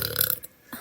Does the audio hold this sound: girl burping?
yes